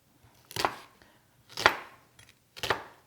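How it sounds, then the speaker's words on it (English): Knife chopping onions on a board in a home kitchen, three separate bursts of quick close cutting strokes about a second apart, each rising and fading, with quiet gaps between and no voices. "And we are going to start chopping."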